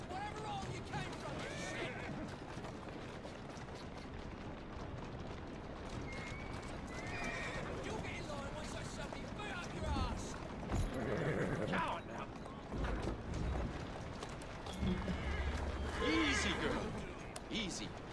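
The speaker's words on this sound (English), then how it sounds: "Who's a good horse?" Horse neighing and hooves clip-clopping in the video game Assassin's Creed Syndicate, with steady hoofbeats and several whinnies running alongside speech and background game sounds.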